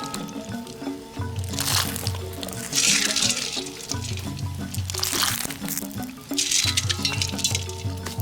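Rice field snails boil in a pot of water, giving soft sloshing and bubbling liquid sounds beneath steady background music with a repeating low melodic pattern.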